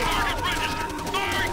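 Enemy machine gun fire rattles steadily in the video game World at War during a beach assault, a loud, continuous burst over dense battle noise.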